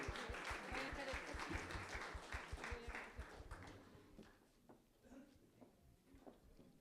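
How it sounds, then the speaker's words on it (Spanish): An audience at an evening historical-chroniclers' talk in a museum claps in a brisk, fairly close round that gradually thins and fades after about four seconds, leaving scattered faint claps and room noise. "Para la maestra, un fuerte aplauso"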